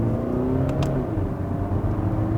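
A Volkswagen Golf 8 with a dual-clutch transmission accelerates smoothly, its engine note rising in a steady close whir from inside the car, with no talking.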